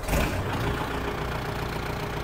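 A Kubota L5018 tractor engine idles close by with a steady low diesel rumble and chug that holds at an even level after starting.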